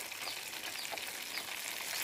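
A faint, steady sizzle of fish frying in hot oil until crisp, a soft continuous crackle with no talking.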